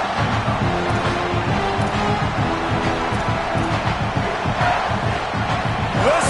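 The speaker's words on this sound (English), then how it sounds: "Listen to this crowd just shaking the girders of this place trying to help their defense." A packed stadium crowd at an American football game roars in a continuous, loud, swelling din of cheering and shouting, backing the home defense, with a commentator's voice faintly audible over it.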